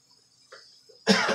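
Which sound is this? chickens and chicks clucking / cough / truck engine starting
cough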